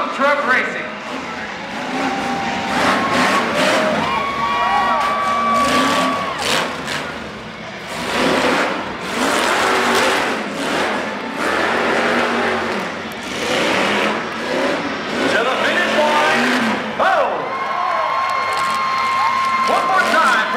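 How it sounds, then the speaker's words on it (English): Tough trucks racing flat out at a tuff truck competition, engines revving and surging loudly and continuously over a noisy crowd, with a public-address voice talking throughout. "No holds barred, full throttle tough truck racing."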